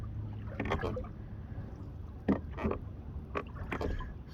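Rowboat oars on East Crooked Lake: a few soft, spaced dips and splashes with quiet gurgling in between, calm and close, with no voices.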